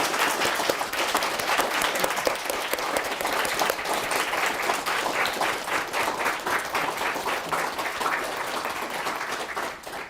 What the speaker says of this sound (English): let's give a round of applause for Cynthia